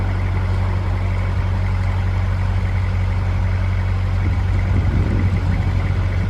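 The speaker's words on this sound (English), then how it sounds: "You can hear traffic on it, but not as busy as I thought it would be" Steady motorway traffic on the M3 rumbles from below a bridge, a continuous low roar of passing cars and lorries at moderate distance, fairly even throughout without any voices.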